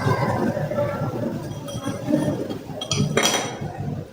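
A spoon stirs jaggery into a glass, giving a run of close, bright clinks against the glass over a steady background hum, with a louder cluster of rattling taps near the end.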